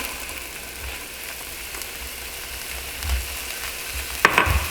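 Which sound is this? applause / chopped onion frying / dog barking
chopped onion frying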